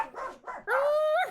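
Dogs bark at night as a sound effect in a tabletop game session: two short yips, then a longer, rising whining bark, close and fairly clear, with no talking.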